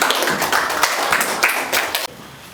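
Classmates clap together after a student presentation in a school classroom, a dense burst of many hands close by that stops abruptly partway through, leaving quiet room tone.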